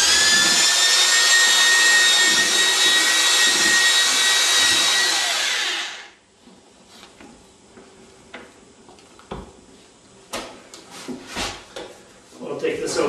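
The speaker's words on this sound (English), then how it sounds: "we'll get the big paddle out here and stir this thing" A big drill-driven paddle mixer stirs a bucket of wall texture compound with a loud, steady whirring churn for about six seconds, then cuts off, leaving quieter scattered knocks and handling noises.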